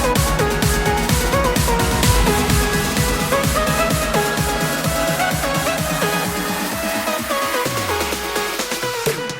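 Progressive house remix build-up, dense and loud with driving repeated kicks and synth chords, rising snare rolls and a sweeping riser that drops away near the end into a descending low tone.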